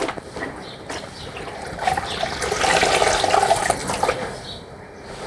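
Water runs steadily as clothes are scrubbed with a brush and Nirma detergent, a continuous close splashing wash that swells in the middle and eases off toward the end.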